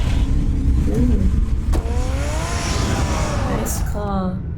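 A car engine revs and hums in the Batman Telltale video game, a loud continuous drone with rising and falling pitch sweeps, a brief squeal near the end, and voices overlapping the engine.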